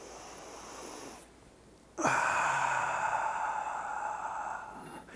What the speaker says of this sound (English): take 7 to 8 seconds of breathing. Try it now. Breathe in.